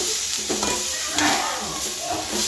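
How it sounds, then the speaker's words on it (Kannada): Garlic and ginger fry in a pan for mutton curry, a steady close sizzle with stirring scrapes and rustles throughout, no talk. "ಎಲ್ಲ ಚೆನ್ನಾಗಿ ಹಾಕಿ ಹುರಿಬೇಕು"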